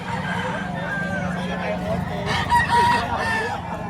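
Rooster, a roughly one-year-old chicken, crowing amid steady background noise with voices talking nearby; the crow rises briefly toward the end of the stretch, moderately loud against a busy market-like din.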